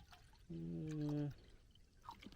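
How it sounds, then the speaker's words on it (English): Water from a hostel pours in one short, close stream into a container on a rainy morning of an Appalachian Trail hike, rising slightly in pitch as it fills, with faint outdoor background before and after. "Water, courtesy of Boots Off Hostel."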